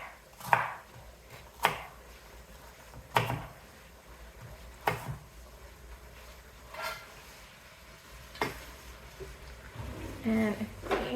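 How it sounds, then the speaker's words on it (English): Knife chopping frozen cilantro and fresh Thai basil on a board, a handful of sharp, separate chops at irregular intervals with quiet room noise between and a few softer taps near the end. "I'm going to cut up the herbs"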